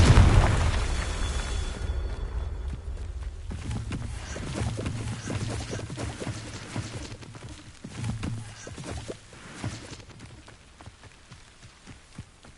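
A Confringo blasting spell goes off in Hogwarts Legacy, a deep booming burst at the start trailing into a low rumble, with a few softer thuds and pops afterward.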